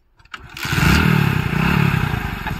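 A motorcycle engine catches after a brief clatter and revs up loudly, holding a throbbing roar up close for a couple of seconds with no talking.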